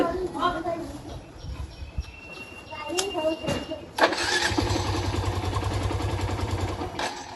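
A motorcycle engine, one that runs on octane, is started in a comedic skit. It catches and settles into a steady low idle that runs beneath ongoing conversation.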